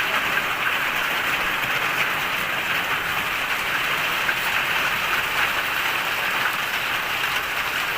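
Steady rain falls on a road, a dense, even hiss of drops that holds at one level from start to finish, with no voices.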